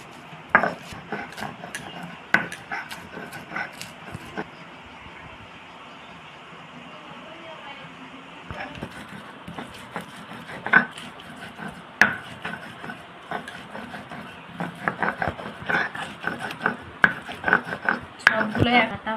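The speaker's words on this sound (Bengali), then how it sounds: "টমেটো কুচি বেটে নেব এখন শিলনোড়ায়" Chopped tomato is ground on a stone shil-nora: coarse rubbing and scraping of stone on stone, punctuated by sharp knocks that grow more frequent toward the end, with a voice speaking briefly in between.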